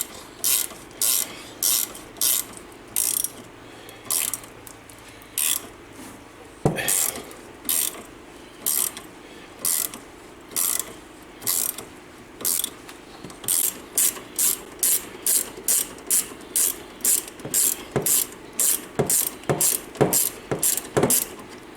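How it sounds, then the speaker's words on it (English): A hand ratchet clicks in quick repeated bursts of strokes while loosening the stabilizer nut on a Polaris RZR 800, close and clear with short pauses between runs, no talk. "Now we're going to take this nut off for the stabilizer."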